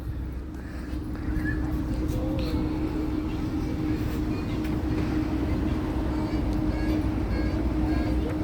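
A miniature diesel train on the Maine Narrow Gauge Railroad rolls along steadily, a loud continuous rumble and rattle of wheels and cars heard from on board, with no talking.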